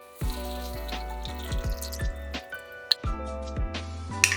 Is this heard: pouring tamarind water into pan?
yes